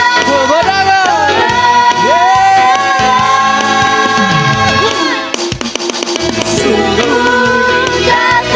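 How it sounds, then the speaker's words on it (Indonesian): A church congregation at a Sunday service shouts in victory, a loud crowd roar mixed with music and singing, with a sudden surge of shouting about midway. "Kita mau sorak kemenangan."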